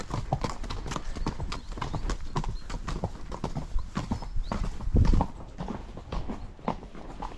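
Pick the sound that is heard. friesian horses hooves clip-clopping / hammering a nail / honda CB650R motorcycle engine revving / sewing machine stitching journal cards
friesian horses hooves clip-clopping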